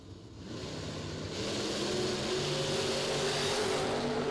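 A Dodge Stratus drag race car accelerates down the strip, a rising engine roar that swells and holds, heard from a distance over general track ambience.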